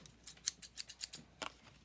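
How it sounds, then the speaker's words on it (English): Scissors snip through turquoise paper for a handmade happy birthday sign, about eight quick, crisp cuts in an uneven rhythm, close and quiet, with no talking. "is grab my scissors"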